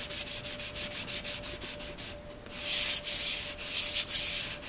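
Old paring knife blade rubbed against a sharpening surface, giving a rhythmic series of close, gritty abrasive strokes that grow louder and longer toward the end.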